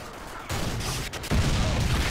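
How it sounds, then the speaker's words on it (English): Airstrike explosions in a Modern Warfare 2 team deathmatch on the Sub Base map. They come as loud, broad rumbling blasts that are close and come in quick succession, and no voices are heard over them. "Ooh, uh-oh, airstrike."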